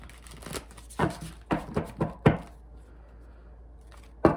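Playing cards are shuffled in a series of quick riffling bursts and soft slaps, close up, followed by a pause and one final snap.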